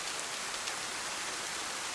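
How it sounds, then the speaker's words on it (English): Steady rain pours in the survival video game DayZ, a dense, even hiss with no distinct drops or pauses, fairly quiet and with no voices over it. "but now it is raining."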